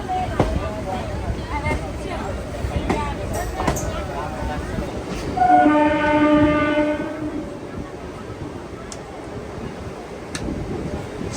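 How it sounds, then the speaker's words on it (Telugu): A MEMU passenger train leaving Korukonda station sounds a clear horn blast mid-clip over the continuous rattle and clatter of wheels on the rails, with some voices in the carriage. "కోరుకొండ స్టేషన్కి అయితే వచ్చింది, బయలుదేరిపోతుంది మన ట్రైన్"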